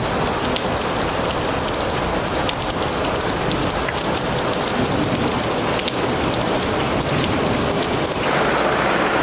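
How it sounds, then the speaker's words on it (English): Heavy rain pours steadily and loudly throughout, a dense hiss of drops drumming on surfaces with no voices. "It's a lot of rain in a short amount of time."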